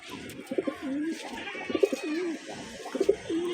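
A pair of pigeons coo close by in soft, rolling low phrases repeated three times, with brief rustling between them.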